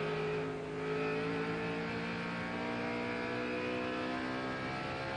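A NASCAR race truck engine holds a steady, loud, droning high-rev note under throttle while entering a turn at a 1997 race, continuous and close with no voices.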